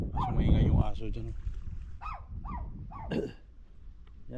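A dog barks several times in short, separate yelps near a fishing and crabbing spot on the water at Benicia in the morning, with a voice heard earlier in the clip.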